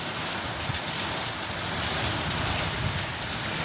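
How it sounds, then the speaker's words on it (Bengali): Heavy downpour falling outside, a dense unbroken roar of rain hitting surfaces, steady and fairly loud throughout with no voices. "আর বাইরে হচ্ছে মুষলধারে বৃষ্টি"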